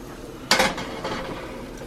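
Beef fried rice frying in a pan, a sudden loud burst of sizzle as food hits the hot surface, settling into a steady hiss with faint clinks of utensils.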